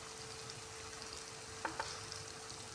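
Leftover cooked rice tempering in hot oil in a pan (oggarane) gives a steady low sizzle, with two brief clinks of a spoon against the pan partway through.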